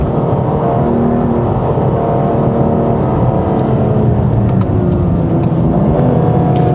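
A 2019 BMW F87 M2 Competition's engine revs hard in sport mode on a driving-centre track, a loud, continuous, close-up roar that holds steady with faint whine and rasp on top.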